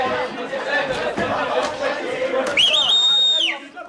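A person whistles a clear, wavering high note over noisy crowd chatter, holding it for about a second before it drops away.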